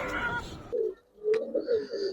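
Giribaz colouring pigeons coo in a few low, throaty bursts, close and fairly soft, following a short stretch of muffled background noise.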